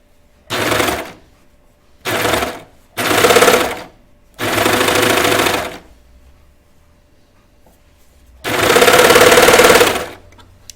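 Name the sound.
sewing machine stitching sleeve hem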